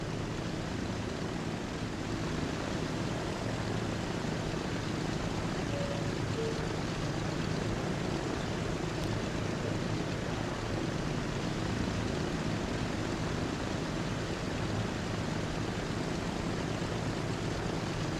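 Airplane in the transport simulation game Transport Fever 2, a steady, even engine drone that holds at a constant level for the whole stretch with no talk over it.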